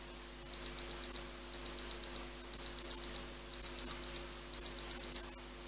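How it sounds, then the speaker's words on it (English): Reminder beeps from a Spintso Ref Watch 2X referee watch during paused playing time: five bursts, each a quick run of three to four sharp electronic bleeps, repeating about once a second over faint background hiss. "Beeps are activated every 10 seconds to remind that the playing time is paused."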